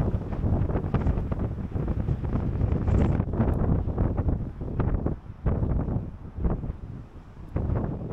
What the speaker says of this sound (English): I hope you can hear me over the wind.